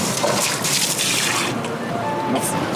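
Water sloshes and splashes close by in a loud, churning wash at a canal lock on the Canal du Midi, France, with a voice briefly audible over it.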